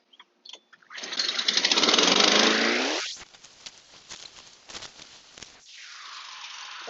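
A Honda HRN216VKA lawn mower engine sputters, catches and roars loudly with the blade engaged, drops to a rough idle with pops and knocks, then revs up again.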